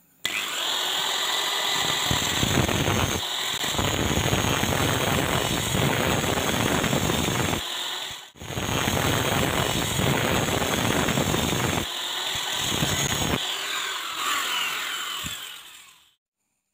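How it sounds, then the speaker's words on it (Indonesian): A handheld grinding machine cuts grooves into the casing of an old printer motor, a loud, continuous abrasive whine in two long passes separated by a brief pause, with short dips as the disc lifts off and winding down at the end. "nanti di garis ini kita akan membuatkan cekungan menggunakan mesin gerinda"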